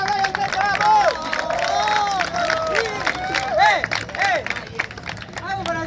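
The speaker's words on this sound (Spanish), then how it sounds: "Aplauso para Brian" Crowd at a freestyle rap battle tournament cheers, shouts and applauds loudly and continuously, with voices calling out over the clapping throughout.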